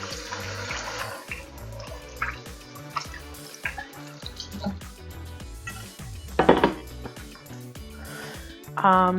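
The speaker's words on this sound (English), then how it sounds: "I'm just gonna wash my hands." Hands are washed under a running kitchen tap at a sink, with water splashing and dripping amid clinks of dishes and a busy background.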